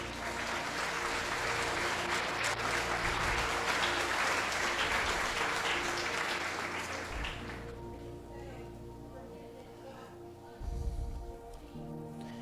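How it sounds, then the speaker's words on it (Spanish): Loud, dense applause from a church congregation during a sermon, sustained for several seconds, then fading into quieter room sound with a brief burst near the end. "Denle un aplauso a Jesús."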